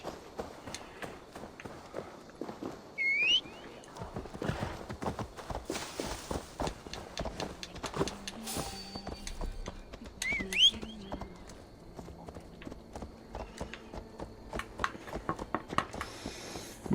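Horse galloping in Assassin's Creed Valhalla: a steady run of fairly quiet hoofbeats in quick rhythm, with a couple of faint bird-like chirps over a soft ambient bed.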